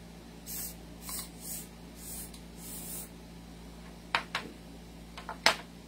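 Short hissing bursts of oil sprayed onto a Beretta airsoft pistol, several quick puffs in a row followed by a few sharp clicks and taps, moderately close in a quiet room.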